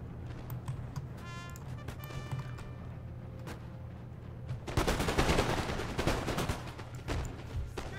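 Massed rifle volleys from line infantry in the Napoleon Total War battle game, a dense crackle of many shots bursting loud midway and continuing in rolling waves over a low battlefield drone.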